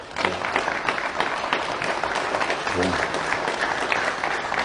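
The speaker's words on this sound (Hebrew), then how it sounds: "עכשיו תעשו כפיים לבורא עולם" An audience applauds in a dense, steady wash at a religious lesson, loud and continuous for several seconds, with voices calling out over the clapping.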